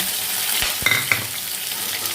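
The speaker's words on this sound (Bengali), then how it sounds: "আলুগুলোকে কিন্তু ভালো করে ভাজতে হবে" Steady sizzling of potatoes frying in hot oil, close up, with a few clinks and scrapes of stirring.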